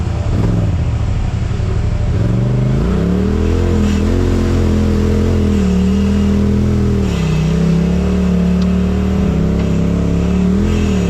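A Polaris RZR 900 XP off-road side-by-side out on a trail revs its engine loudly and close, the pitch rising and falling in sustained sweeps across the whole stretch.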